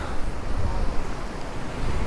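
Stormy sea waves smashing against the concrete seafront at Santa Ponsa, Mallorca, a continuous loud roaring wash mixed with gusting wind buffeting the microphone.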